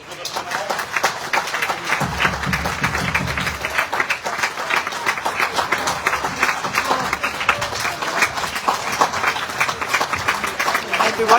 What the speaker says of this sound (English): Even disabled people are applauding.